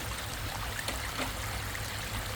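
Water trickles and babbles in a small backyard pondless waterfall and stream built with an Aquabasin, a steady close wash of splashing with no talking.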